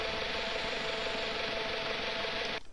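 The engine of a UAV drone in the video game Arma 3 runs with a steady, dense whine and hum at an even level, then cuts off abruptly just before the end.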